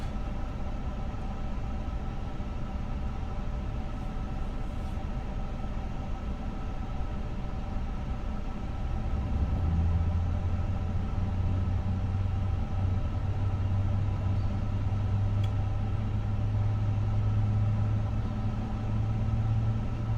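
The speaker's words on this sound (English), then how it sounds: "Alright, engine number 2 is also starting up." Airbus A350 engine number 2 spooling up during start after pushback, a steady low rumble and hum that grows louder and deepens about halfway through, with no talk.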